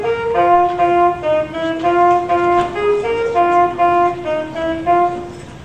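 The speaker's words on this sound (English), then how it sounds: "This is the sound of the alto sax." Alto saxophone playing a short melodic line of sustained and stepping notes, clear and moderately loud over a faint background hiss, with no voices.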